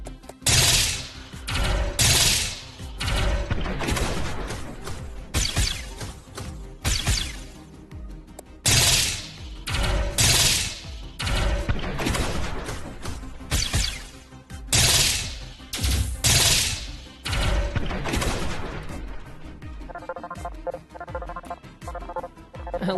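Ship guns firing in the space video game Station Command produce repeated loud bursts of rapid booming shots, grouped in clusters across a long stretch, with a lull between volleys and no talking.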